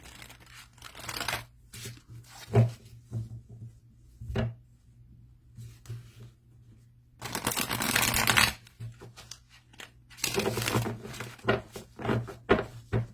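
Slightly sticky tarot cards are shuffled and handled up close, giving quiet clicks and taps with a couple of longer riffling bursts, and no voices.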